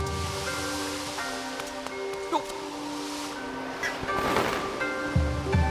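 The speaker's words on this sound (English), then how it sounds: "Turn on the water." Water switched on in the Zelda Skyward Sword game, a broad rushing gush that swells partway through over steady game music tones.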